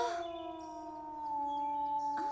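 A single wolf howling in one long sustained tone that slowly wavers and rises, moderately distant and clear over a quiet background, with no talk.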